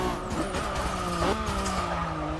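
A Honda NSX-R race car in the Forza 6 video game circles the Brands Hatch track with a high engine whine, shifting pitch and squealing tires, loud and close, no talking.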